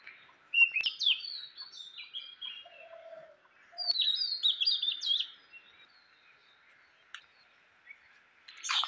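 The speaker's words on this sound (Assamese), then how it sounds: "এতিয়া চৰাই মাতি আছে" Birds chirp and twitter in bright bursts from trees on a cold morning after rain, with a quiet pause in the middle and a clear flurry of calls near the start and again midway.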